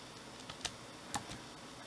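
Faint, sparse button clicks from a TI-89 graphing calculator as an expression is entered, a handful of soft taps with two slightly sharper presses in otherwise quiet surroundings.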